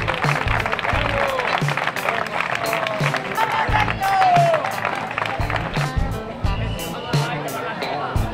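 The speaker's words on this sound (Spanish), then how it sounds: "Fuerte aplauso para ella." Crowd applause and cheering at a super sprint triathlon finish in Pozoblanco, steady and fairly close, with a loudspeaker announcer talking over the clapping throughout.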